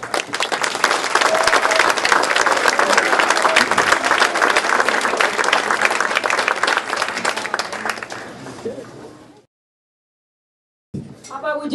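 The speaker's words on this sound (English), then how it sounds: "Do another final round of applause for both Mayor Mike Wise and Mayor Roger Bradley" An audience at the 2023 Madison Heights and Hazel Park State of the Cities event gives a long, loud round of applause for the two mayors, mixed with crowd noise, fading before a brief silence and a short return.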